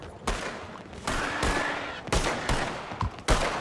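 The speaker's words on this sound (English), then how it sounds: "it's an officer shooting at some other guy" Gunfire from a lawman shooting at someone in a Saint Denis street in Red Dead Redemption 2: about five loud, sharp reports at irregular intervals, each with a short echoing tail over a busy town background.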